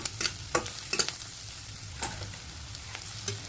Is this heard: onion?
yes